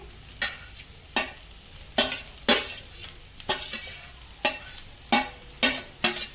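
Chillies, capsicum, carrot and cabbage are sautéed over a full flame in a steady sizzle. About a dozen sharp, regular scraping strokes of stirring sound up close, with no voices.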